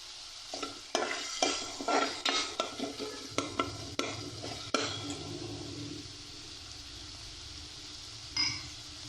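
Chicken stir-fried in a pan for a chicken vegetable egg sandwich, close rhythmic scraping of a spatula over a soft sizzle, with stirring strokes fading after about five seconds into steady frying.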